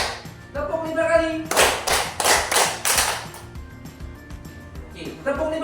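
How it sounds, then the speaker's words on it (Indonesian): Hand claps in a classroom-style activity ring out in a run of loud, evenly counted beats in the middle, with a voice speaking before and after the clapping. "Tepuk satu kali, tepuk dua kali, tepuk tiga kali"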